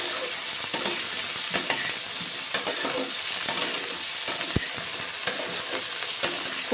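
Winter vegetables for a vegetarian khichuri fry in oil without salt or turmeric, a quiet, continuous sizzle close by with regular scraping and light clinks as a utensil stirs the pan.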